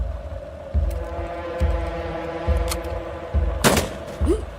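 Gunfire in a dubbed South Indian action film: several sharp shots spaced about a second apart, one heavier burst near the end, over a steady low rumble, with no talk.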